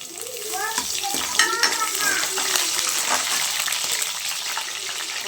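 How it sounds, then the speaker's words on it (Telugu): Mustard seeds and urad dal frying in hot oil, a steady crackling sizzle with scattered pops and stirring scrapes, while someone talks over it. "సో ఆయిల్ అయితే కాగింది, దీంట్లోకి ఆవాలు మినపప్పు అయితే వేసేస్తున్నా."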